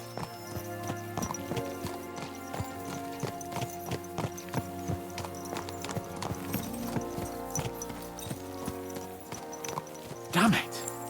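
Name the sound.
horses galloping, from the video game Kingdom Come: Deliverance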